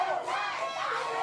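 Wrestling crowd at a tag-team match roaring and chattering as they urge a tag, a dense, steady wall of mixed voices with rising shouts throughout.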